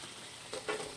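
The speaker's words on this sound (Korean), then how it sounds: "오징어가 이제 어느 정도 이렇게 익으면 이제 예, 야채를 넣어서 볶아보겠습니다." Squid stir-frying in a hot pan, a steady soft sizzle running throughout with a couple of brief louder bursts of stirring near the end, close and without talk.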